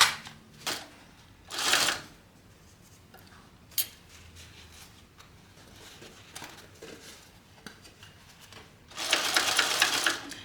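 Sewing machine stitching a seam on a fabric panel, short rattling bursts of needle strokes separated by pauses and faint handling clicks, ending in a longer loud stretch of steady stitching.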